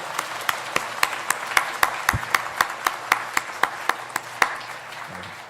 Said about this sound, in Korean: 여러분 이 새 가정을 여러분 정말 축복하고 축하하는 마음으로 다시 한번 크게 박수해 주십시오.